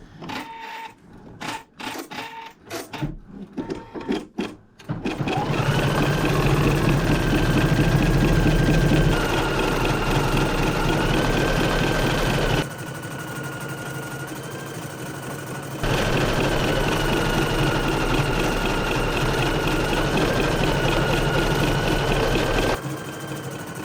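An embroidery machine stitches out a blended scroll design on fabric, a steady loud mechanical whir with a fast rhythmic needle clatter, briefly dropping in level midway before resuming, after a few seconds of sparse knocks at the start.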